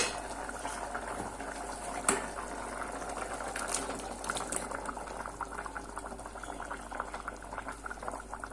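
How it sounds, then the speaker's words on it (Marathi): Mutton curry bubbles at a steady boil in a cooking pot, a continuous soft gurgling and popping close by with a faint background hum and occasional small clinks, no talking. "मटणाला मस्त उकळी आलेली आहे"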